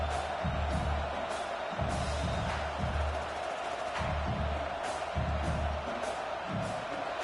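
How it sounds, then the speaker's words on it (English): A loud home crowd roars and cheers throughout a football game, with a dense, sustained wall of voices and rhythmic low thumping beneath it. "how nice is it to have the home crowd going absolutely bananas"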